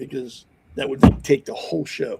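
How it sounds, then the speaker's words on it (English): A hand slams down onto a desk with a single sharp, loud thump in the middle of a man's speech. "that loud sound you just heard was my hand slamming into my desk"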